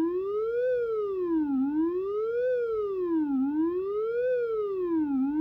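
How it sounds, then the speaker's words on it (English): Electronic siren tone generated by an FPGA driving a stereo DAC, a steady loud wail sweeping smoothly up and down in a regular rising-falling cycle about every two seconds, with no other sounds. "it should start making a loud siren noise."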